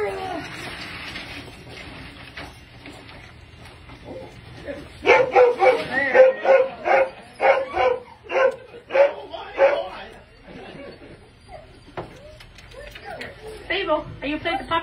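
Several dogs and puppies bark and yip in a quick, loud run of sharp yelps near the middle, with people talking before and after.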